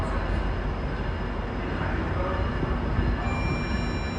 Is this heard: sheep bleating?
no